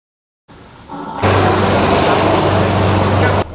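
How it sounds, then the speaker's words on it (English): A loud, steady helicopter rotor-and-engine roar fills a playground landing site in Akure after a short quieter start, holding constant before cutting off abruptly. "the helicopter conveying President Bola Ahmed Tinubu from Owo arrived at Japo Playground in Akure"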